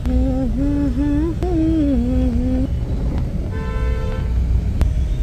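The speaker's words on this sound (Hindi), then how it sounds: "हर जगह ट्रैफिक है देख रहे हैं" Busy street traffic rumbles steadily while car horns honk, with a long wavering horn blast followed by shorter toots and beeps over the constant road noise.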